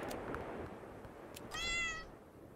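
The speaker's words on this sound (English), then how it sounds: "Oh no, kitty, get out." A single short cat meow, clear but fairly quiet, heard alone over faint background noise.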